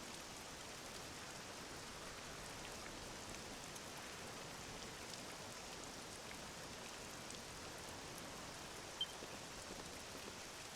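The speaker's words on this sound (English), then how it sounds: "This accursed rain'll chill ye to the bone." Steady rain falls in a Dragon Quest 7 Reimagined game scene. It is a soft, even, continuous hiss of drops at low volume with no break.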